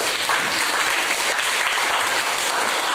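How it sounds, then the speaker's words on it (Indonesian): Classroom students applauding together, a steady dense clapping that fills the room evenly for the whole stretch without pause or talk. "Berikan aplaus untuk diri kalian sendiri"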